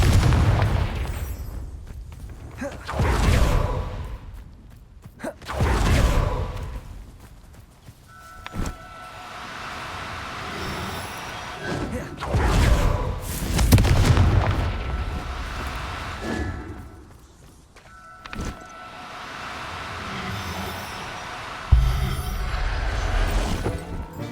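A Confringo explosive spell in Hogwarts Legacy gives several loud booming blasts with rumbling tails, spaced a few seconds apart over a continuous game backdrop.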